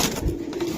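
Racing pigeon from a club-raced racer stock cooing close by, a soft low rolling coo under a faint background hum, no talk.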